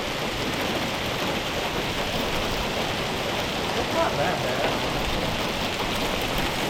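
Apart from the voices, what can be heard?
hail falling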